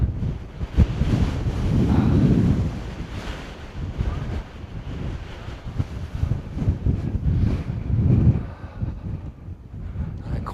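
Strong gusting wind buffeting the microphone on Montaña Guanapay, a volcanic crater hill on Lanzarote, a loud continuous low roar that surges and eases in waves with no voices.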